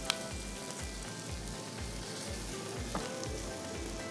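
Mushrooms go into a pan of frying onions, giving a steady, loud sizzle with crackling spatter throughout and a faint rhythmic low thumping underneath.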